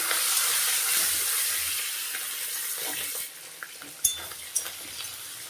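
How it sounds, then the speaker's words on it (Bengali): Shrimp frying in a pan for bottle gourd curry, a bright hissing sizzle that fades slightly, followed by a few sharp clinks and scrapes of stirring near the end. "চিংড়ি মাছগুলো দিয়ে দেবো"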